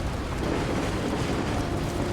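Steady rain pours in the video game Nobody Wants to Die, a dense, continuous wash of hiss and low rumble that holds at an even level throughout, with no voices over it.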